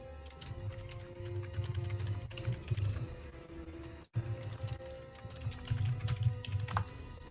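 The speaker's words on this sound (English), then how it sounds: "Pay no attention to the typing behind the scenes." Rapid clicking keystrokes on a computer keyboard, continuous close typing in uneven bursts with a brief pause partway through, no talking.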